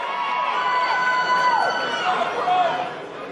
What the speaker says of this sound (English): you can hear this crowd come alive